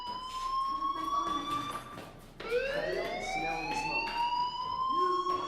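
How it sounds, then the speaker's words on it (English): A steady electronic fire alarm tone in the video game Life is Strange rings continuously, shifting pitch once partway through, with faint background sounds beneath it. "do you hear that fire alarm? That means you should be outside."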